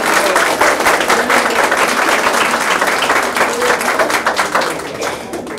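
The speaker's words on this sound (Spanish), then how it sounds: "Felicitaciones y un aplauso muy fuerte para ellos." An audience at an office re-inauguration ceremony claps loudly and steadily, a close, dense round of applause that eases slightly in the final second.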